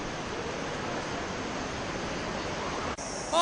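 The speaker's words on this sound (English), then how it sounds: "Oh, look, there's a waterfall." A waterfall in Tallulah Gorge gives off a steady, broad rushing roar that stays even and unbroken for a few seconds before a brief dip near the end.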